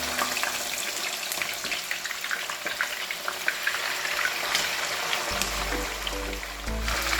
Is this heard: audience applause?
no